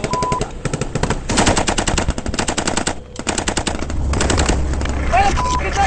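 Gunfire from an ambush on a hillside: loud, rapid machine-gun bursts in long rattling strings, with shouting voices and a vehicle engine rumbling underneath.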